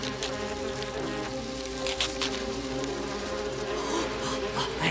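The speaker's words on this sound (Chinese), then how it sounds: "他们竟然想出把蜜蜂引到这里来，把蜘蛛网冲破" A swarm of bees buzzes continuously in a steady, dense drone with layered humming tones, loud and close throughout, under a few faint background noises and no talk.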